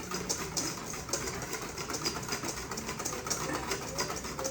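Eggs are whisked until frothy, with a fast, continuous rhythmic ticking of the whisk against the bowl, moderately close and fairly quiet.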